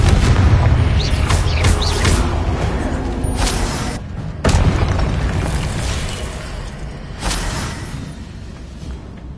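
The Confringo spell in Hogwarts Legacy on PS5 sets off loud, booming video-game explosions, with a heavy burst, a fresh blast midway and rumbling decay between hits.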